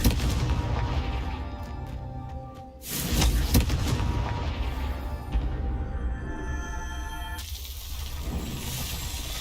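A Confringo blasting spell goes off in Hogwarts Legacy, with crackling magical bursts and a heavy explosive blast followed by a long, churning rumble of debris and shimmering effects, no talking.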